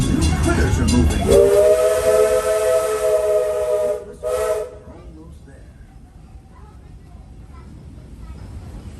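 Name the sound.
Big Thunder Mountain runaway train with steam whistle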